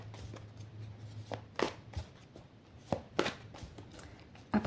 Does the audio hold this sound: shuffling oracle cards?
yes